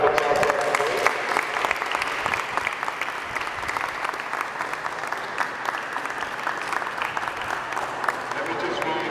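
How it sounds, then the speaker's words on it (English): An audience applauds at a ceremony honoring the 1972 stickball world champions, sustained dense clapping at an even level throughout, with faint voices mixed in beneath. "Let's clap it up for Jackie Lynn."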